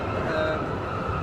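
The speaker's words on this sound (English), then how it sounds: "sorry about the bad noise, obviously we're on the train" A crowded London Underground Central line train carriage fills the air with a steady, low rumbling roar and a faint high whine running throughout.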